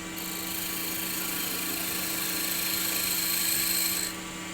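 A wood lathe spins a wooden box blank at a steady high whine with a constant hum, close and loud, holding even for about four seconds before easing off slightly.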